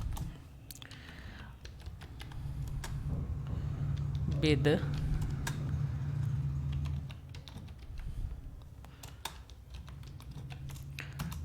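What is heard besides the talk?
typing a search on a computer keyboard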